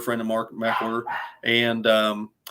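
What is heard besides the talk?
dogs barking in the background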